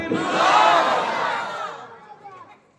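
A large sermon congregation roars the takbir chant in unison, a loud collective shout that swells quickly and then fades away over about two seconds.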